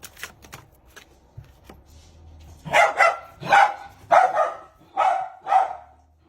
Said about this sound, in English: Libra has the dog barking